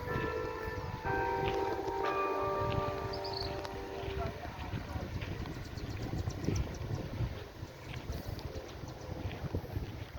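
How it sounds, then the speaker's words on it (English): A clock tower bell chimes several times with clear ringing tones over steady outdoor noise and wind in the Garrison Historic Area, Barbados, then fades into the background hum. "You can hear the clock chiming now."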